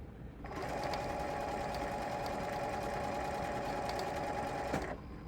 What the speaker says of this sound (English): Lift up my pressure foot and then continue on, making my 1/4 inch seam.